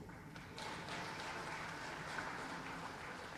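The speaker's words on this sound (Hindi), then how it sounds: "ध्यानचंद जी का भी ताली बजा के स्वागत कीजिए" A crowd at a government sports honours event in Madhya Pradesh welcomes an Olympian with applause, a steady wash of clapping that swells after the first half second and holds at moderate level, somewhat distant.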